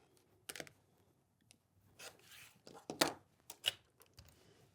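Scissors or a rotary cutter trim a quilting fabric piece for a wall hanging, making a series of short, close crisp snips and rustles with quiet pauses between.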